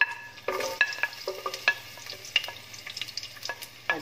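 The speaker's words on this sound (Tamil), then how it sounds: "ஆலிவ் ஆயில் ஊற்றிட்டு நம்ம ஸ்லைஸ் பண்ணி வச்சுருக்கிற பூண்டு, பூண்டை முதல்ல போட்டுக்கிறோம்." Sliced garlic sizzles in hot olive oil for spaghetti aglio e olio, a steady close frying hiss broken by sharp scraping and tapping as it is stirred in the pan.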